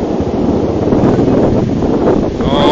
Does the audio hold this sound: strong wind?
yes